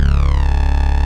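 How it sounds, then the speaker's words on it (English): A guitar tone run through the Archetype: Rabea plugin with the detune effect on rings as one sustained, loud note whose pitch sweeps slightly downward, giving a shimmering, flange-like wobble. "One of the other cool features that I really love is the detune."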